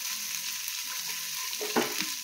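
Chilli, onions and small fish fry with ginger and garlic in a pan while being stirred, a dense close sizzle with scraping stir strokes and a brief louder flare near the end.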